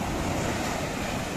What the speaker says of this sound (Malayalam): പക്ഷെ കടൽ നല്ല കൂടുതലാണ്